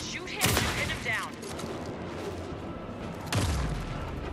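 Two loud gunshot bursts from Alan Wake 2 crack out close by, one at the start and one near the end, with rumbling reverberation and other game sound filling the gap between them.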